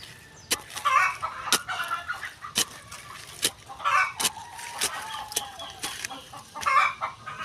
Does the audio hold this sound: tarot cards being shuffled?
no